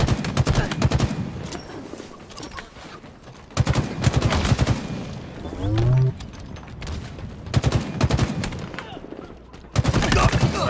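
Gunfire in the video game Halo Infinite: repeated rapid bursts of automatic fire come in loud clusters with brief lulls between them, and a voice speaks briefly in the middle.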